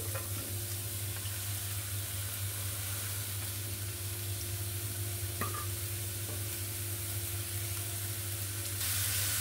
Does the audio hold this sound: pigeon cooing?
no